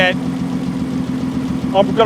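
Untuned, worn Volkswagen engine running with popping, a steady mid-low idle drone with a beat to it, close and fairly loud, with brief voice bursts at the start and near the end.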